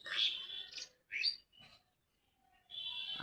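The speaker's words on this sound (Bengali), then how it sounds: "শালিক পাখির ডাক" Myna calling from a tree by a flowering pomegranate, a few loud chirping bursts separated by short gaps, near and clear with no talk.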